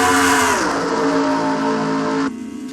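Race cars in a NASCAR video game at Charlotte roar toward the line three wide, a loud sustained engine drone with pitch sliding downward before cutting off abruptly near the end.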